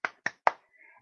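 Three quick sharp claps in an even rhythm, close and crisp, during an energetic laughter yoga exercise, followed by a faint voice.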